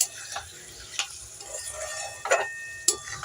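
Chopped tomato drops into a sizzling pan, a low steady fry broken by several sharp clatters and stirring scrapes spaced about a second apart, close and alone.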